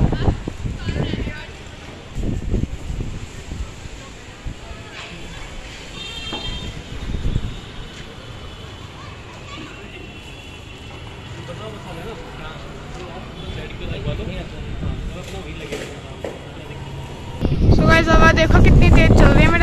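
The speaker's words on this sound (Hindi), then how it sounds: "भाई, बहुत तेज हवा चल रही है" Strong wind buffets the microphone in gusty, rumbling bursts, growing louder and rougher near the end, with a voice speaking over it.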